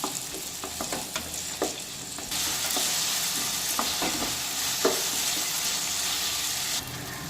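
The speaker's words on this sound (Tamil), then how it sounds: "தக்காளி நல்லா வதங்கி வரட்டும்." Tomatoes sauté in hot oil in a pan for a tomato buttermilk curry, with a steady close sizzle under scraping and tapping stirring strokes, heard alone without talk.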